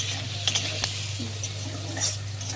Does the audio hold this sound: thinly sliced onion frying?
yes